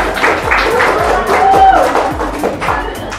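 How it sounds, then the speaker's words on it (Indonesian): Applause from a crowd at a digital marketing sharing session, a moderate wash of clapping with scattered sharper hand claps throughout, fairly loud and steady. "tepuk tangan dulu"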